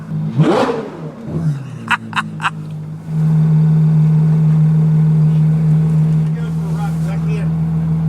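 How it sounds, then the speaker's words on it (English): Excited voices and brief exclamations come first, then a tuned Ferrari with an F1-style exhaust settles into a loud, sustained engine drone held close by for several seconds. "This is what a Ferrari should sound."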